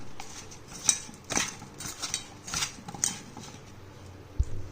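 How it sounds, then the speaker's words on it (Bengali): Spices being mixed into mushroom pieces by hand, heard as soft scattered clinks and rustles against a bowl, quiet and close, with no talk. "এবার চলো আমরা এই সমস্ত মশলাটা মাশরুমের টুকরোগুলোর সঙ্গে ভালো করে মিশিয়ে দিই।"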